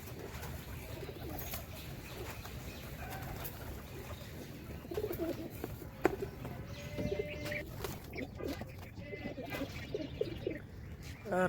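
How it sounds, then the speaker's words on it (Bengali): Pigeons outside their coop at feeding time coo softly nearby, with scattered wing flutters and small rustles, under faint low background noise and occasional voices. "খাবার খাওয়ার সময় যেহেতু কবুতরগুলো বাইরে আছে"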